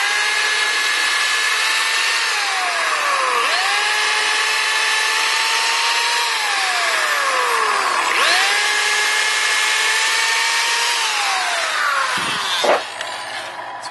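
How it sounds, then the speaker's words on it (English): A power drill whirs close by, drilling pilot holes into wood framing, its pitch sagging and recovering several times as it bores, ending with a short clunk. "I'm going to drill a couple pilots."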